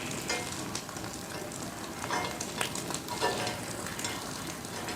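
Egg bonda frying in hot oil gives a steady, dense sizzle and crackle at moderate volume, continuous throughout with small bubbling pops.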